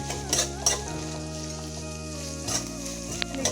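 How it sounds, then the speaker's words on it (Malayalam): Sliced onions with green chilli, crushed garlic and curry leaves sauté in a hot pan for banana flower thoran, a steady close sizzle broken by a few soft stirring scrapes, with no talking. "സവോള നന്നായിട്ട് വാടി വരണം, അതുവരെ നമുക്കിത് ഇളക്കി കൊടുക്കാം."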